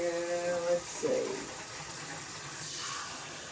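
Water is poured into a pot while making chicken and dumplings, giving a steady splashing, running-water rush that fades to a softer trickle, with a brief voice near the start.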